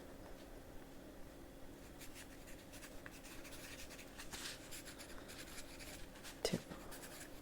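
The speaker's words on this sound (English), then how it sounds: "I can probably write this down for you. Let's see, I have a little piece of paper here." Pen scratching across a small piece of paper during a quiet medical-office ASMR roleplay, soft continuous strokes with faint rustling and one brief louder tap near the end.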